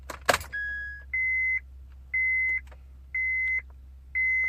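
A 2006 Honda Ridgeline with its ignition switched on: a brief key jangle, then four evenly spaced, steady dashboard beeps, each about half a second long, close and clear in a quiet cab.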